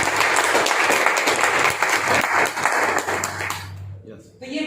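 Audience applause for NV Shoppe at a Hindi business presentation, a dense burst of clapping through most of the moment that fades near the end, with a voice speaking over it.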